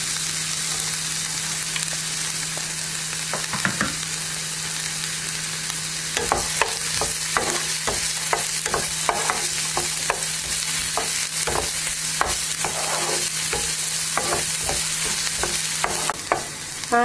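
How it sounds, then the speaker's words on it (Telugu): Onions and green chilies frying in oil in a pan, a continuous close hiss of sizzling with a long run of sharp stirring clicks and scrapes in the second half, with no talking. "అదేవిధంగా ఈ ఉల్లిపాయలు కూడా వేసేసుకుని, ఉల్లిపాయలు మనం బాగా వేయించాలి."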